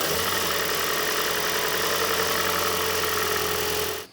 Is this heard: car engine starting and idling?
yes